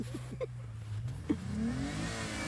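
An engine-swapped Infiniti G35x revs and accelerates, its faint engine note rising toward the end with a few brief knocks along the way.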